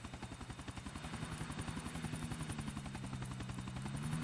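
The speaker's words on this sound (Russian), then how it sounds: "Вертолет есть." A helicopter in the GTA IV video game gives a steady, rapid rotor thump, faint and fairly distant, growing slightly louder throughout with no talk over it.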